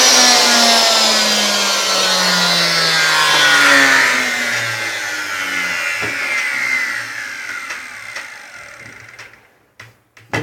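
A Hitachi M12SA2 plunge router without soft start, loud and close, with its motor pitch sweeping as it spins up and then winds down to silence near the end.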